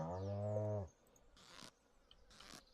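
A cow in the Stardew Valley farming video game gives a single loud, harmonic moo lasting under a second while being milked, followed by two brief hissing bursts of game sound effects.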